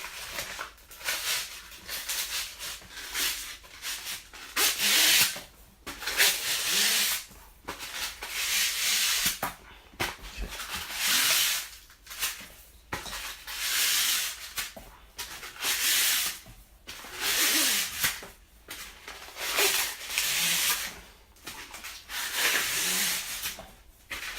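Sandpaper scrubs a part for a Nappa Dragon Ball Z build in rhythmic, hissing back-and-forth bursts, each a second or two long with short pauses between, close and steady for the whole stretch with no voices.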